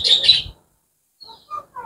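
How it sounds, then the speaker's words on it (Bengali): An Australian dove calls nearby: a couple of bright, quick notes, a short silence, then several soft, brief cooing tones. "তাই আপনাদের আজকে ঘুঘু পাখির ডাকটা শোনাইতেছি।"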